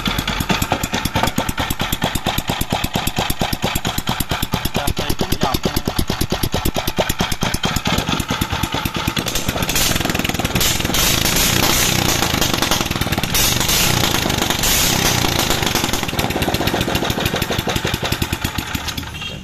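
A small two-stroke petrol chainsaw or grass trimmer engine runs loud and close, with a steady buzzing drone that rises and revs higher partway through, heard alone without talk.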